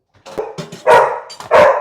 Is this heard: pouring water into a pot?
no